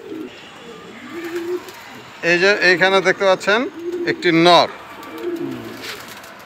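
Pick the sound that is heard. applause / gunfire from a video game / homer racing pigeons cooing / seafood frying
homer racing pigeons cooing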